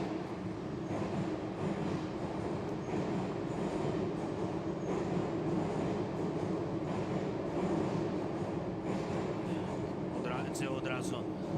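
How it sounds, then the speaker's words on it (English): A Kyiv metro subway train runs through the station with a steady, loud rumble of wheels and carriages throughout, a brief high squeal near the end, and a murmur of voices underneath. "so let's listen to the subway."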